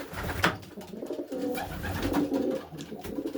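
A dark cock pigeon cooing inside a breeding shed, soft low rolling coos repeating under faint background rustle.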